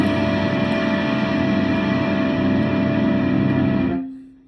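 An electric guitar on its bridge pickup rings out with a bright, trebly, distorted tone, a sustained chord held for about four seconds before it is cut off abruptly.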